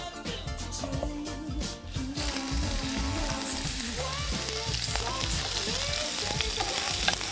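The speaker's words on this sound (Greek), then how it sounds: "θα σοτάρουμε το κρεμμύδι να υδρώσει." Chopped onion sautéing in olive oil in a frying pan, a steady crackling sizzle that starts up partway through and keeps going close to the microphone, with occasional stirring and light clatter.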